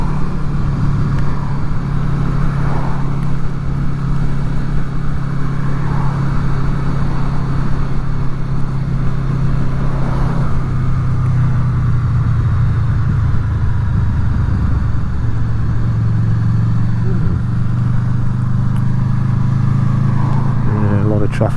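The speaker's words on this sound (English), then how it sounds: "Yeah, a lot of traffic about" Traffic passes on a busy road, heard from a Honda VFR800 motorcycle, as a loud, steady engine drone with vehicles swelling by while someone talks over it throughout.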